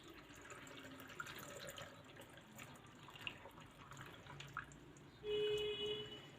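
Brine trickles and splashes into a pickle jar as it is filled to the top, a faint steady pour that swells into a louder, fuller gush near the end.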